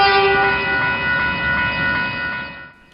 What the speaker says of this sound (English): Perhaps the most common shunter on the system is the DSG class.